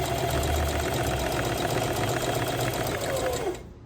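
A sewing machine runs steadily while backstitching on a multipurpose children's pencil case, its fast motor whir continuous and close for several seconds before cutting off abruptly at the end.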